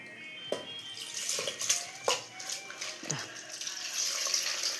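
Water is poured into a simple chicken curry mixture, giving a soft, continuous splashing and trickling that rises and falls over a few seconds. Faint voices may be present.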